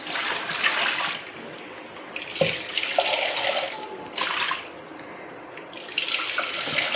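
Water splashes and pours in a basin in several surges as fish is rinsed by hand in rice-washing water, close and moderately loud, with no talking.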